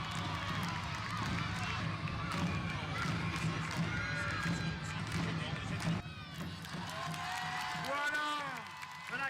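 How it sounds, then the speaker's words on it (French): A crowd cheering and clapping for a man on stilts at an outdoor stilt event. Lively shouts and applause stay at a moderate distance, and a commentator talks over the noise, which dies down near the end. "Voilà Christophe qui suscite l'encouragement. On applaudit."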